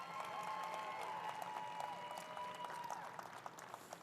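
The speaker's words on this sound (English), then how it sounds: "Can we get a round of applause for the mentors?" Audience applause at a FIRST robotics event opening ceremony, thanking the mentors: steady, dense clapping from a large crowd fills the hall for about four seconds with no break.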